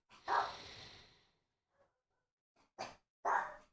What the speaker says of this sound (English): They are just barking up a storm today.